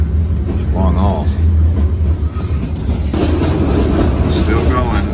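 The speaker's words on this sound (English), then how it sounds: "I've been on the train now for 5 hours" Sleeper train running from Saigon to Nha Trang in Vietnam, a steady loud rumble and rattle of rail cars filling the whole span, with a voice speaking briefly over it early on.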